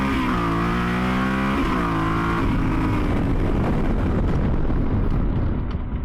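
A Yamaha Super Tenere 1200 adventure motorcycle accelerates hard from a standstill into a wheelie, its engine roaring loud and close as it climbs through the revs and shifts, then gives way to rushing wind noise.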